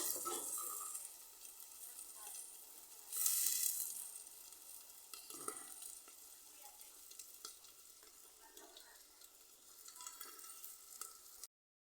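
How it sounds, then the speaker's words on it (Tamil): Rice omelette batter sizzles under a lid in a pan, a soft, continuous frying hiss with a brief louder swell and occasional small clinks. "ரைஸ் ஆம்லெட் பாருங்க ஊற்றியாச்சு. கொஞ்சம் அப்படியே மூடி வைக்கலாம் நண்பர்களே."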